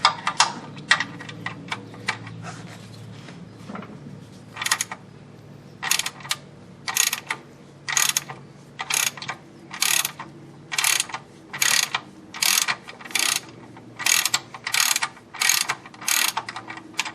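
A ratchet clicks in repeated short bursts while cracking loose the oil drain plug on a Lexus ES300 during an oil pan reseal, crisp close ticking strokes with brief pauses between pulls, alone without talk.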